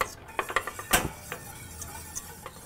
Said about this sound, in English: Some Worcestershire sauce. Is it Worcester sauce? Some places in England, I think they call it Worcester sauce. Worcester sauce. Give this a good whisk.